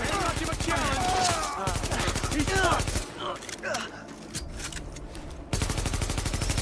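Automatic weapons fire in The Division at the police academy siege on Rikers' stronghold, fast rattling bursts that drop back briefly midway under crackling noise, then resume loud and rapid.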